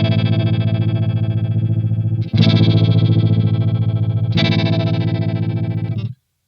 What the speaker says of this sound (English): now we can even affect the harmonic tremolo with this switch